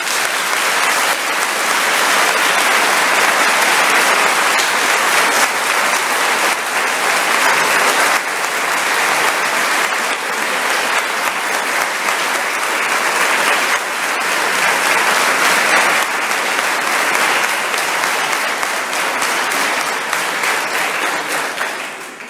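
A parish congregation gives sustained, loud applause to welcome its new priest, dense clapping from many hands continuing steadily for over twenty seconds with no talking over it.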